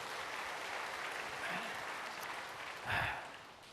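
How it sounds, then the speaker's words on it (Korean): Congregation clapping in a church, a steady broadband wash of applause throughout with a brief louder swell near the end, no clear talk over it. "하나님께 영광의 박수 좀 하십시다."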